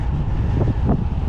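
Headwind buffeting the microphone while cycling, a heavy low rumbling roar that fills the whole moment with gusty fluctuations, close and loud.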